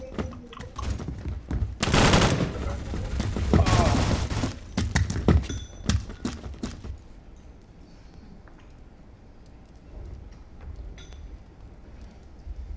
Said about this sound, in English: I just shot randomly.